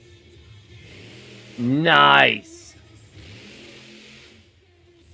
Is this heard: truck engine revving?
yes